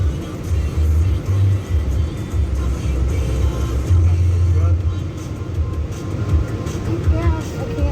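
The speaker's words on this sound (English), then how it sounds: "There's a truck speeding up, so no." A truck accelerating on a busy road, heard from inside a moving car as a steady loud low engine and road rumble with rising surges throughout, mixed with faint talk.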